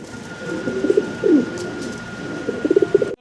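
Fancy pigeons coo in soft, throaty bursts, three short rolling phrases close by, with a faint steady hum behind them.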